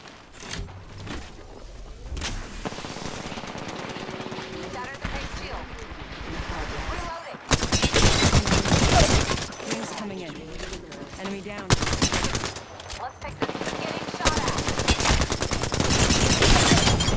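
Rapid bursts of video game gunfire hammering the player, dense automatic volleys with loud impacts in several waves, mixed with game sound effects and a voice speaking briefly.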